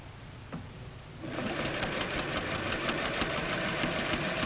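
A sewing machine stay-stitching the front waistline of a skirt for a 1950s jumper starts up after a brief pause, then runs in a steady, close, rapid mechanical chatter with an even stitching rhythm.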